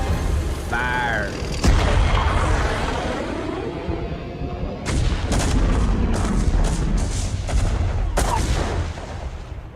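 Weapons fire in a StarCraft Remastered cinematic, with heavy booming shots and rapid mechanical bursts over a rumbling battle mix, plus brief shouted voices and whirring machinery.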